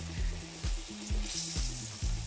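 Zucchini with garlic sizzles and fries in a pan, giving a steady close hiss, while dull thumps sound at a regular pace about every half second, with no talking.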